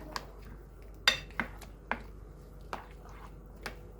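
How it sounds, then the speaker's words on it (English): Eggplant omelette batter with black pepper being mixed in a bowl: a handful of sharp clinks and taps at uneven intervals over a low, quiet background, close by. "And let's combine all together. Mix it well."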